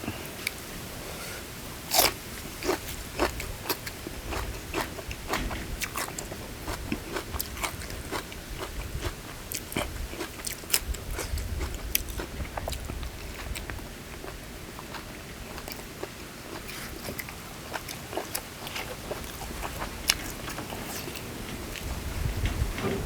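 Someone eats spicy larb of river snails served with fresh chilies, close-up crunchy biting and chewing repeating steadily throughout with no talking.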